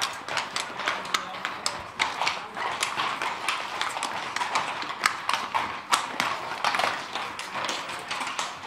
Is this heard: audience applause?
no